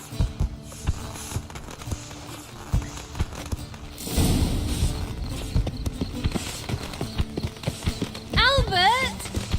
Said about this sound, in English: Saddled horses await in the stables.